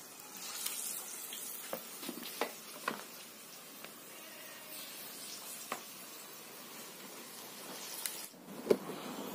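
Cemplon cassava balls frying in hot oil, a quiet continuous sizzle with scattered pops and clicks, one sharper clatter near the end, no talking.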